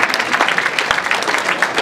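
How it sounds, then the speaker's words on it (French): An audience at a political debate breaks into applause, a dense, loud patter of many hands clapping close by, sustained throughout with a few sharper individual claps standing out. "On l'applaudit pour les 8 enfants."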